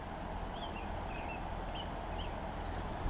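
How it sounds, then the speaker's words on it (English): Outdoor heat pump unit running with both fans blowing cool air: a steady, low broadband whoosh and hum continues without change throughout, fairly faint, with a few faint chirps above it. "this is the sound of the heat pump."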